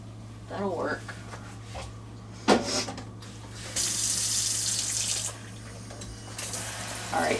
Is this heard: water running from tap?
yes